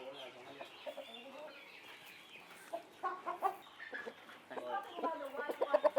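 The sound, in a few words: Dong Tao chicken clucking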